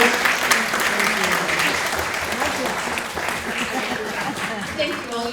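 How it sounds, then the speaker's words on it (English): Sustained audience applause for a group of panelists at a panel event, dense and steady for about five seconds, a few claps standing out near the front, no talk over it. "Let's give them a round of applause"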